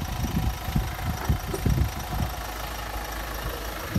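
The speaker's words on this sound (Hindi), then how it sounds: "ये डीजल इंजन है भाई, काफ़ी ज़्यादा नॉइज प्रोड्यूस करता है ये" Diesel engine of a Mahindra Marazzo idling with the hood open, a steady low rumble with rough knocking pulses, heard close and alone with no voices.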